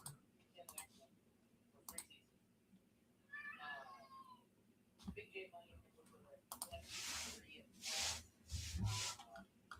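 A house cat meows at a door, with a few short, quiet cries heard alone amid sparse clicks and rustling, then louder nearby thumps and noise.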